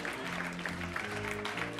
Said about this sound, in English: Let's give a big round of applause for Michele Oberholtzer.